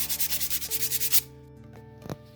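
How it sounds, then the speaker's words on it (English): Rhythmic back-and-forth sanding strokes on wood, about a dozen close, even passes, then stopping, leaving a quiet hum and a small knock. "And then we just sand and sand and sand and sand."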